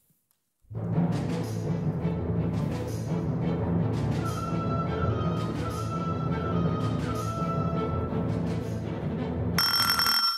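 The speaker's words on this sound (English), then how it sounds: "For your music start, you'll hear an extract from an opera." After a moment of silence, orchestral opera music by Strauss swells in with sustained strings and bright bell-like tones, playing steadily and fairly loud.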